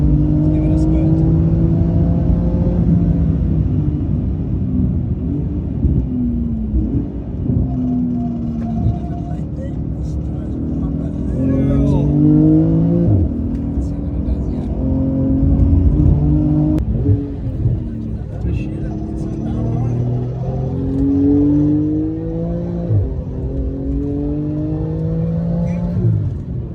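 A Porsche GT2 RS sports car on Michelin tyres accelerating hard at a motoring festival in South Africa, loud rising engine runs climbing through repeated gear changes, with a voice talking over it.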